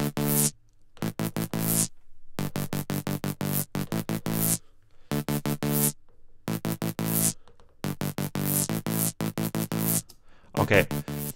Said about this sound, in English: I'm going to play you the mid bass with my treatment first.